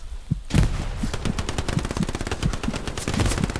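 Rapid enemy machine-gun fire in the World War II video game Hell Let Loose, a loud, close, steady stream of shots with a single shot just before the burst starts, and no talking.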